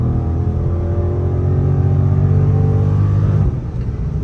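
A 2023 Dodge Scat Pack with a 392 engine and factory exhaust gives a loud, close, deep droning rumble that holds steady, then drops off abruptly near the end.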